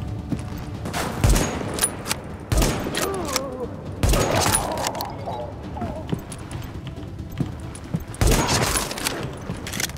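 Enemies shoot at the player in The Division on hard difficulty at a napalm production site, sharp gunshots and short bursts popping every second or two over a busy background of combat noise.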